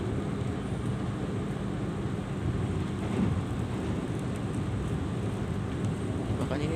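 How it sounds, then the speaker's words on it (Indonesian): Heavy rain drums steadily on the roof of the KA Ijen Ekspress train between Malang and Ketapang, heard from inside as a dense, continuous hiss and patter with a low background rumble. "Hujannya deras banget teman-teman."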